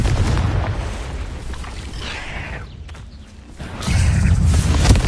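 A Confringo blasting spell goes off in Hogwarts Legacy, a loud booming explosion with heavy low rumble, a brief dip, then another strong burst of blast noise near the end.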